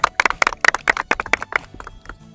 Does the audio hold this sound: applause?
yes